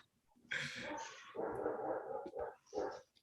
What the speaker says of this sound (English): Oh man. Dogs now.